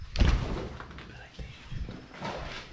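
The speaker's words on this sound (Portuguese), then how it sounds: "Fecha a porta." A door thuds shut inside a large abandoned mansion: one heavy, close thump near the start, followed by people talking and shuffling around in the room.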